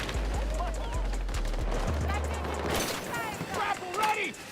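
Gunfire in a military shooter video game, a burst of rapid automatic shots over a dense battle din, with game voices calling out alongside.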